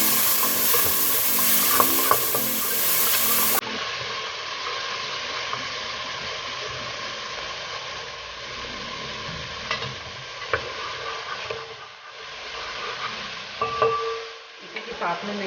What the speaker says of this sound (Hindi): ये अदरक लहसुन भून जाएगा तो इसका फ्लेवर बहुत अच्छा सा आएगा।